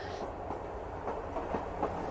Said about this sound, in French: Ça doit être juste un TER qui passe, un TER tout simple.